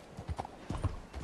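Horse hooves clip-clop on a town street in Red Dead Redemption 2, a few quick uneven steps sounding close and clear, with no voices over them.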